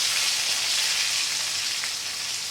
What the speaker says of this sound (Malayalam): തിരിച്ച് മറിച്ച് വെച്ച് വെണ്ടയ്ക്ക ഒന്ന് സോഫ്റ്റായി പുറമൊക്കെ ചെറിയ ബ്രൗൺ കളർ ആവുന്നവരെ നന്നായിട്ട് വറുത്തെടുക്കണം